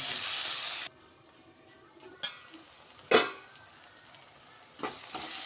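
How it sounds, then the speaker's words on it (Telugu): Tomato frying in ginger garlic paste in a pan for a Telugu okra-and-prawn dish: a steady sizzle that cuts off early, then quiet stretches broken by a few sharp stirring scrapes and clinks. "టమాటా కూడా బాగా ఫ్రై చేసాం"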